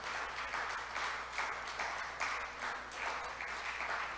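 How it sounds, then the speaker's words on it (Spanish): A church congregation applauds together in a steady, moderately loud wash of clapping. The sound fills the room evenly, with a low background hum underneath. "Que se oiga en verdad ese aplauso para Dios"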